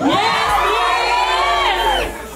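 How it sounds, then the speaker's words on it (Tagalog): A crowd of people shouts and cheers together in one sustained, loud burst that ends in a whoop, with high excited voices and no speech over it. "Isang sigawan nga dyan, yes please!"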